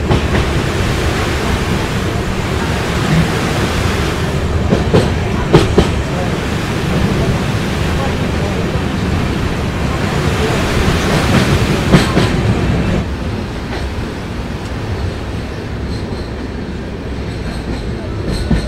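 A train rolls into Malda Town railway station at night, its wheels clattering and clanking loudly over the rails, then easing to a softer rumble as it slows.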